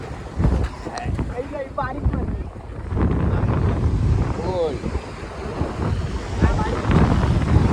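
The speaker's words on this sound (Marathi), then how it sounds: "ही आली बघ लाट आली बघ" Sea waves wash in at Alibag beach under heavy wind buffeting the microphone, while several people chatter and call out close by.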